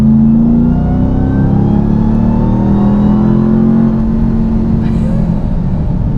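A Ram TRX pickup truck's 702 hp engine revs hard and accelerates, its rising harmonic whine climbing steadily in pitch, loud and close throughout.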